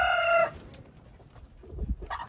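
A rooster crows loudly and briefly among clucking chickens at feeding time on a homestead, followed by soft low clucks and scratching nearby.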